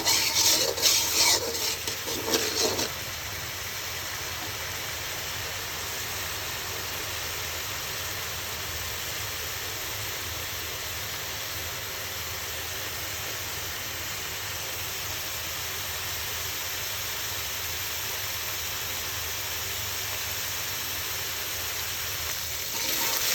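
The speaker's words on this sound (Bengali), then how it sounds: "মশলাটা আর কিছুক্ষণ কষিয়ে নেব।" Spice paste sautéed and stirred in a pan gives a steady low sizzle throughout, with a brief louder scraping at the start.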